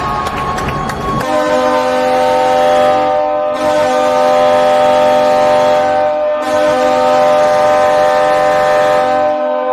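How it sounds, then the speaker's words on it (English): A hockey arena goal horn blares in long continuous blasts that swell and ebb, filling the whole stretch with a harsh, steady drone. "It appears we get a horn honk for every goal they score."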